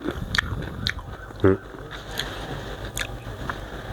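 Crunchy green mango is bitten once with a loud, close crack and then chewed with soft, wet crunching, while a voice murmurs faintly underneath.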